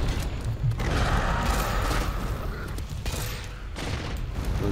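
Gunfire in the video game Monster Hunter World, a rapid burst of loud shots layered over dense in-game action and rumble, continuous and close for several seconds.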